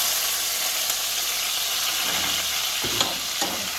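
Scotch bonnet pepper, scallions, onions, tomatoes and garlic sauté in a hot pan for an ackee and saltfish dish, giving a steady close sizzle and hiss with a few scraping stirs near the end.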